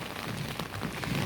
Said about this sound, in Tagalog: nabubulok dahil walang tigil yung ulan ng buong isang linggo na